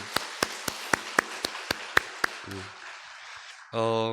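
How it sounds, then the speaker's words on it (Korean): A church congregation at an early-morning prayer service claps in a sharp, evenly spaced rhythm, about nine crisp beats, then fades as a voice speaks briefly. "우리 함께 하신 하나님 앞에 영광의 박수 올려드렸으면 좋겠습니다"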